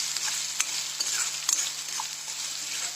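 Onion roasts in a pan with a steady soft sizzle, broken by sharp clinks and scrapes of stirring at intervals, close and moderately quiet.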